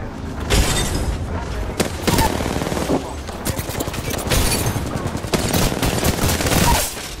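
Grenade blasts and dense automatic gunfire from an Apex Legends firefight, with loud booming bursts repeating over several seconds amid continuous rapid shooting and faint voices underneath.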